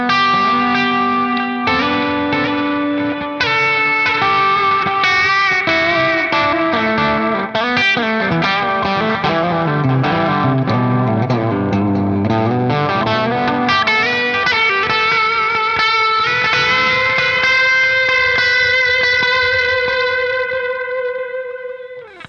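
Electric guitar notes through an Ernie Ball Ambient Delay pedal ring out continuously, washed in heavy reverb and echoing delay that blur into a lush, sustained ambient wall of sound.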